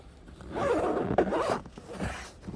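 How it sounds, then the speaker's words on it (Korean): A zipper on a fabric rooftop cargo bag holding camping gear is pulled open in a couple of quick, close ripping strokes with brief pauses. "이런 식으로 이렇게 지퍼를"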